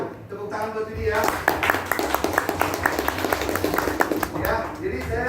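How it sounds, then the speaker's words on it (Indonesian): Audience clapping for a presenter at an Indonesian business Q&A session, a steady patter of many hands with sharp individual claps rising midway, mixed with voices and crowd murmur throughout. "Tepuk tangan buat Vidi ya."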